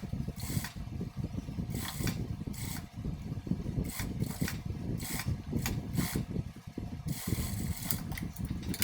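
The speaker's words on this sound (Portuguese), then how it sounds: "agora eu vou lá para a máquina reta e passo uma costura com a distância de 1 centímetro." A straight-stitch sewing machine runs a seam, a dense rapid mechanical clatter of the needle and feed, steady and close with brief pauses and restarts.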